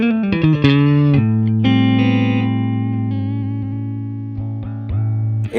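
Electric guitar, a Foals FS7 on its middle pickup position, with a bright, moderately clean tone plays a short run of notes, then holds sustained notes that ring out with slight effects, loud and close.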